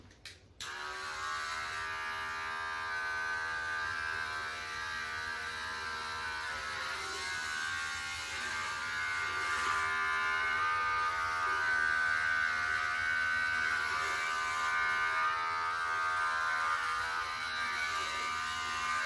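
Electric hair clippers with a guard trimming hair, a steady close-up mechanical buzz that starts abruptly and runs continuously, rising slightly as the blades work through the hair.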